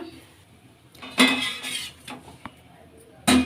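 Clattering of a plate and utensils as cooked spring onion roti is moved onto a plate in a home kitchen, a few sharp clinks and scrapes separated by quiet gaps, with light background speech.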